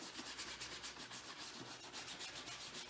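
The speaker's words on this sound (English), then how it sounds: "The soft bristle brush creates the most lather, so it's the best to give them the first once over." A soft bristle brush scrubs Puma PWR Ignite golf shoes with a quiet, rhythmic back-and-forth rubbing, close and soft, repeating evenly with no voices.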